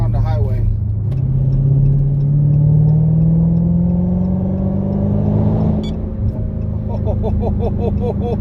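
A Dodge Charger Hellcat fitted with a GtHaus American Roar exhaust cruises on a highway, its deep engine drone rising in pitch as it accelerates, steady and loud from inside the car, with a brief shift change near the end.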